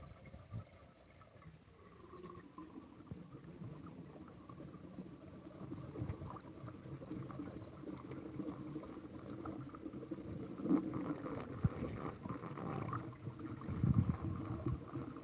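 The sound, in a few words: water filling a toilet tank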